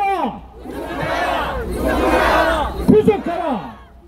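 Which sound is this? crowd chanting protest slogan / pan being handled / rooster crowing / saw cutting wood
crowd chanting protest slogan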